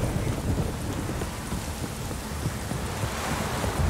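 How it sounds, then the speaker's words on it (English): Steady heavy rainfall in The Witcher 3: Wild Hunt, a dense continuous hiss and patter that fills the whole stretch, loud and close, with no voices over it. "If it don't stop raining, my arse will rot off."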